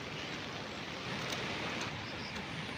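Heavy rain falls over a village, a steady, dense hiss of downpour filling the whole scene evenly, loud and continuous with no voices.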